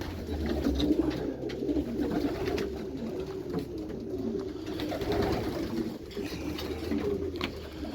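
Pigeons coo softly in an aviary, repeated low throaty calls overlapping at moderate distance, with faint rustling and background hum.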